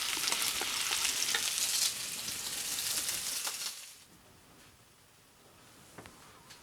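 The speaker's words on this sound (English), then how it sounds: "Got some sausages going here too." Sausages fry in a pan at an ice-fishing cabin, a steady close sizzle with occasional scrapes that drops to a quieter hiss partway through.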